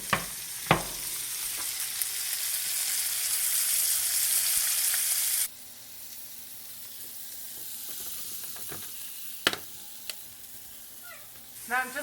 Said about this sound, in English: I'm just going to throw the onions in right here